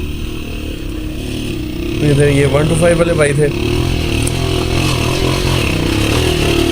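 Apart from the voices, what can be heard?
Yamaha YBR motorcycle riding uphill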